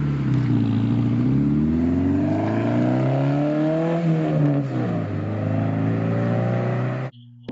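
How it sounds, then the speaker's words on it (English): A Volkswagen New Beetle with a five-cylinder engine revs loudly and alone, its tone climbing and falling through several smooth sweeps before cutting off sharply near the end. "if you get the ones with the 5 cylinders, they make an enthusiast noise too."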